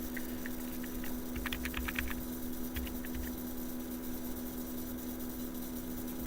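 Quiet keyboard typing, a short flurry of key clicks then a few more taps, over a steady electrical hum.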